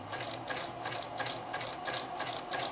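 A sewing machine stitches a bunny table topper in a steady, fast, rhythmic whir, up close and alone, with no pauses across the stretch.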